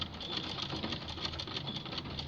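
A sewing machine stitching glove fabric runs in a steady, fast mechanical whir with a rapid needle rhythm, close and continuous throughout without any talk.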